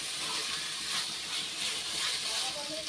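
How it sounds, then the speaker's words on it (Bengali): Rice frying with spices in a hot pan for a Bengali fish-head muri ghonto, a soft, steady sizzle and hiss that swells and eases slightly, fairly faint and close. "চালটা কিন্তু মশলার সাথে খুব ভালোভাবে ভেজে নিতে হবে।"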